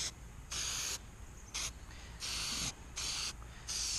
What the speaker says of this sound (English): I got a can of white, just cheap white spray paint